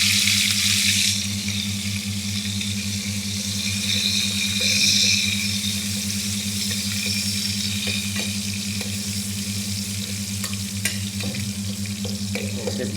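Onions fry in a pan in a Filipino home kitchen, a continuous close sizzle that flares up loudly at the start and then settles into a steady crackle over a low hum, with occasional faint clicks.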